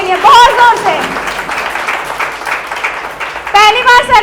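Audience applause welcoming a speaker at a direct selling marketing event, sustained loud clapping under a voice talking over it at the start and end.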